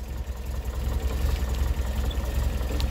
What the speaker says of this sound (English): that little engine, sweet as a nut